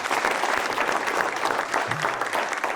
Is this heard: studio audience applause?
yes